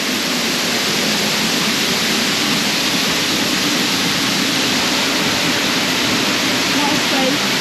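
From the ledge behind a waterfall in the Brecon Beacons' Waterfall Country, falling water makes a loud, unbroken, hissing roar that stays constant and close the whole time.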